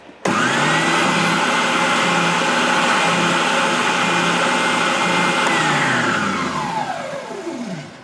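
A WEN 6510T oscillating spindle sander starts with a sudden onset and runs loud and steady with a high whine. It spins down gradually toward the end, and no one speaks.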